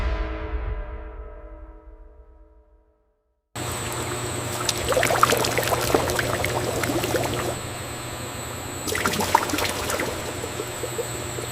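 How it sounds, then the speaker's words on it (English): Liquid milk base pours and flows steadily through processing equipment in a bubble tea factory, a continuous close trickling wash with a brief surge near the end, following a short quiet tonal lead-in. "Our creamy milk base flows, ready to harmoniously meet the rich tea."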